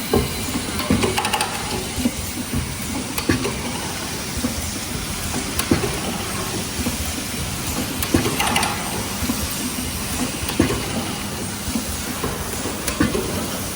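A fully automatic heat transfer printing machine for marker pens runs with a steady mechanical clatter, repeating clicks and a continuous hiss, close and moderately loud with no talk.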